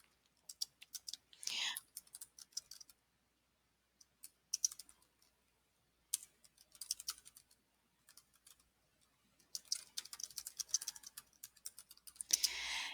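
Quiet keyboard typing on a computer while assignment directions are entered, coming in several separate bursts of rapid clicking with short pauses between them, fairly close and alone without talk.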